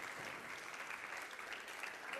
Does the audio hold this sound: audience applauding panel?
yes